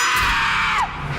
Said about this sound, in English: Is that somebody screaming?